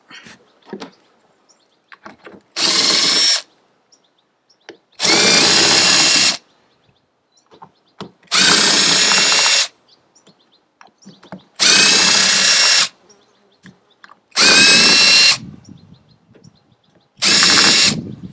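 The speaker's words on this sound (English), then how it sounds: "they are pretty long bolts, so probably easier if you use a drill" A power drill removes long bolts from a junkyard sailboat deck in six separate bursts of one to two seconds each, loud and close, with quiet clicks and handling noises between them.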